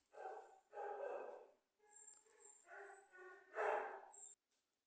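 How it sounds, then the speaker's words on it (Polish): An indoor dog barks and whines in several short outbursts, restless to go outside. The sound is fairly faint and comes without talk. "musiałam przerwać, bo tu się pies buntował, że chce koniecznie wyjść"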